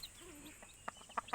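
A brooding mother hen on a farm gives a few short, faint clucks near the end, spaced apart over a quiet rustling background.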